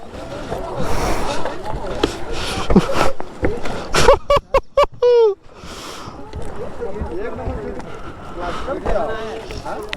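Water ski ride on the Odhani Dam reservoir in Banka, Bihar: a boat hum with wind rushing over the microphone and some water splash, mostly under excited talking, with a short burst of choppy noise midway.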